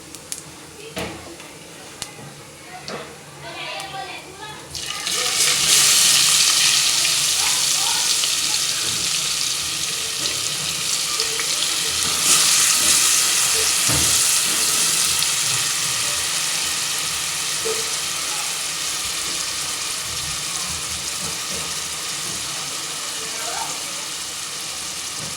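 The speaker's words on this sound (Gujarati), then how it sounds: "હવે આપણે કાંદા એડ કરી દઈએ." Onions hitting hot oil with cumin seeds in a pan for a vegetable bhaji set off a sudden loud sizzle that then settles into a steady, close frying crackle.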